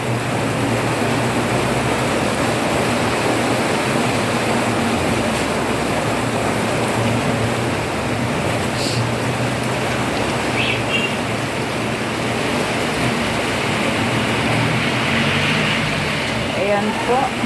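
A continuous roar of heavy rain from a storm persists throughout, steady and dense, with faint indistinct sounds occasionally surfacing above it.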